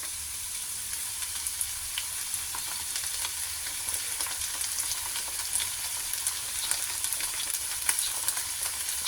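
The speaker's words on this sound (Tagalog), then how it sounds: "pakulin lang natin hanggang sa maluto yung gulay guys" Sautéed pechay greens cook in a pan with a small amount of added water, giving a steady, even sizzle and bubbling hiss that runs unbroken throughout, close and fairly loud with no voices.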